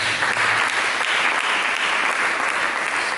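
A church congregation applauds during a sermon, producing a thick, even roar of many clapping hands that holds steady from start to finish.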